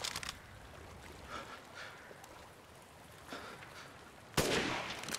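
A single sharp gunshot from a firearm in Resident Evil Village cracks loudly near the end, preceded by quiet ambient rustling and faint movement sounds.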